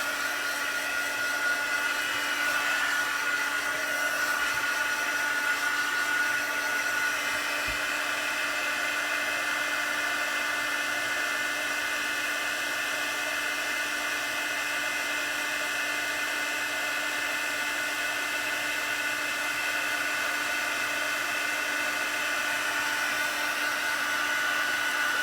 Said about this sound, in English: excuse the noise for 1 second while I set this with the heat tool